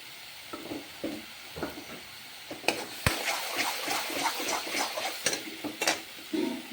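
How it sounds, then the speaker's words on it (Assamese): Spices sizzle in hot oil in a pan with salt added, giving a faint crackle broken by intermittent stirring scrapes and clicks of a utensil against the pan; no one talks. "সেইখিনি ভালদৰে অলপমান ভাজি লওঁ"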